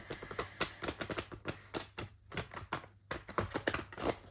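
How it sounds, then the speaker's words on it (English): Rapid papery riffling and soft snapping of handmade tarot cards with folded-over borders being shuffled, in quick bursts with a short pause in the middle, close up and with no talking. "demonstrate how delightfully these cards with their rivoltini folded over borders shuffle"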